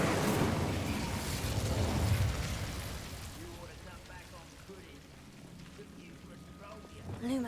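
A fire spell, Incendio, cast in a Harry Potter video game erupts as a loud, broad crackling whoosh of flame that slowly fades, with voices heard faintly in the background.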